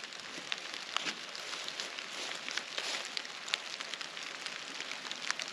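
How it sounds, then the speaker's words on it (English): Rain falling in the wilderness on a weekend camping trip, a soft, steady hiss of drops pattering on surfaces, faint and continuous with scattered slightly louder taps. "You hear that? It's raining."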